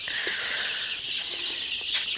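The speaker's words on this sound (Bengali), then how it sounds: "এখানে আমার 1500 সোনালী সুপার হাইব্রিড মুরগির বাচ্চা দিছি এই সেটে" Dense, continuous chirping from 1,500 Sonali super hybrid chicks in a poultry shed, a steady high-pitched chorus with a few low clucks and soft rustles underneath, with no talking.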